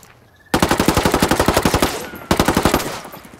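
Rapid automatic gunfire from a newly unlocked skull weapon in Ghost Recon Wildlands, a long steady burst of loud, evenly spaced shots, a brief pause, then a second shorter burst.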